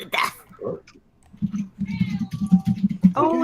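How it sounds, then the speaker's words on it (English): A video game cat gives several meows and murmuring purr-like chirps at close range, repeated in short bursts, with brief voice sounds at the start. "Oh, the kitty is back."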